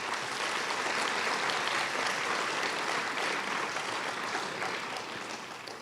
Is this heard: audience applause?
yes